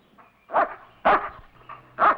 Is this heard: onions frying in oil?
no